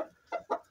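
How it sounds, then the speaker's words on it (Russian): Domestic chickens on a farmstead clucking while pecking scattered grain: three short, close clucks in quick succession, with no talk over them. "И куры зашли, смотрят все. А они зерно, видишь, клюют"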